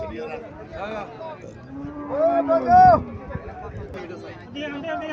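A Haryana-breed dairy cow lets out one loud, drawn-out moo nearby, rising and falling, with soft voices and farmyard bustle around it.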